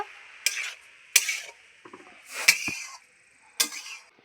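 Bottle gourd curry with turmeric and chili powder stirred in a pan, four distinct scraping strokes of a spoon with quiet gaps between them, close and clear.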